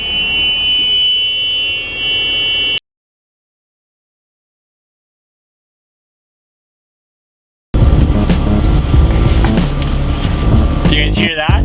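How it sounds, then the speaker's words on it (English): A steady high-pitched electronic window alarm buzzer drones over the rumble of a 40-foot Thomas-built school bus, then cuts out; after a silent gap, loud engine and road noise with rattling returns. "We did not get this freaking alarm turned off."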